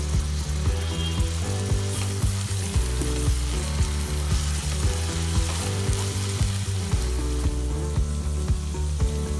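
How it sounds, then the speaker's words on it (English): Onions sizzle and fry in a thick-bottomed pan, making a steady, close crackling hiss that carries on without pause and with no talking. "So these are onions which are sizzling in the pan."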